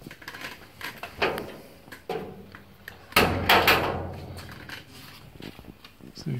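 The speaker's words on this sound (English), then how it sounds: "I'll show you how close this is when I close the door." Clicks and light knocks lead into a 1966 Ford Bronco door slamming shut on its striker with a firm thud and brief rattle, close by.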